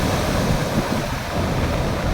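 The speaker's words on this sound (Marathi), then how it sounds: "एवढ्या मोठ्या लाटा आहेत ना इकडे उभा राहायला मला भीती वाटते" Large sea waves rolling in on a windy shore make a continuous roaring surf with gusting wind buffeting the microphone, loud and close, with no voices.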